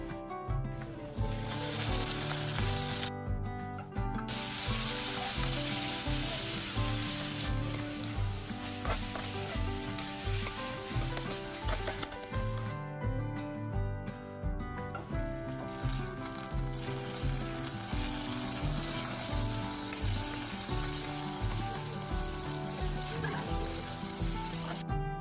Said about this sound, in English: Now add these into the oil and add chopped onion, green chilies, ginger and garlic.